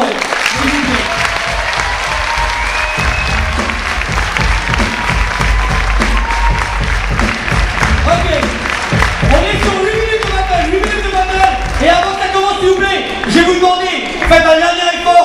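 Crowd applauding and cheering at a 2011 breakdance battle in Corbeil between two crews, a dense, steady wash of clapping and shouts throughout, with music and an announcer's voice rising over it in the second half.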